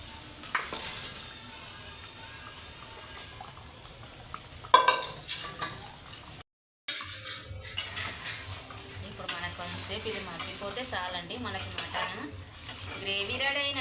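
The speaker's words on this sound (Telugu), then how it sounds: "ఇప్పుడు ఇది మటన్ వేసేస్తున్నానండి" Mutton fried in a pan, with utensils clattering and scraping against the pan as the meat is stirred over a low sizzle, a brief drop-out midway, and a voice talking at times.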